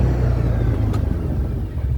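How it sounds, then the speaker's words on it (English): Engine and tyre rumble of a 2022 CFMoto U-Force 1000 XL six-passenger side-by-side braking hard from over 50 mph, a steady low drone with a brief squeal-like burst near the middle. "Now let's hit some brakes."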